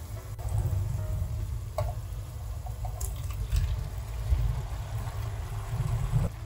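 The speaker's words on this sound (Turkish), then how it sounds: "Salçayı da 1-2 dakika kavurduktan sonra karnabaharları ekliyoruz." Cauliflower florets go into a pan of sizzling tomato paste, giving a low, crackling frying hiss with occasional stirring clinks and light scrapes throughout, no voices.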